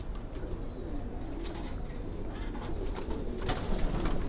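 Khaki pigeons and their young at a loft give soft, repeated cooing over a constant background hiss, fairly close and moderately loud.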